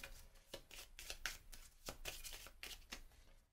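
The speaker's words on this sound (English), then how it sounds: "So I'm just going to give these a shuffle" A deck of game cards is riffled and shuffled up close in a quiet room, a rapid series of crisp flutters and soft slaps in several bursts, with no talking.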